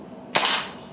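A Crosman 2300KT air pistol fires a hollow-point pellet that strikes a can: a single sharp crack with a brief ringing tail, close and loud, in otherwise quiet surroundings.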